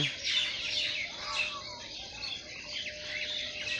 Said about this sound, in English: the birds are chirping here